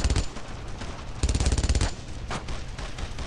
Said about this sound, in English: Oh, God, it's a machine gun.